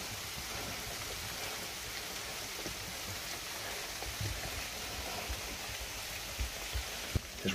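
Steady rain falls continuously, a dense even hiss with scattered drops pattering on a surface nearby.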